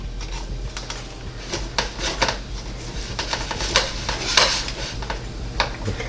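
A spatula cuts into and scrapes under a meatloaf from a NuWave Brio 14-quart air fryer oven, with close metallic clicks and scrapes against the pan over a light, steady sizzle.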